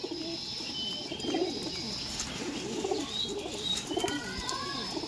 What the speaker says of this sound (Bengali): আর খুবই সুন্দর পায়রা দেখুন